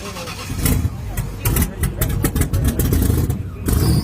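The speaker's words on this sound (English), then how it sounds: "Oh, loud car." A loud car engine at a Christmas tree drag race event revs and roars close by in bursts, with crowd noise and people talking over it.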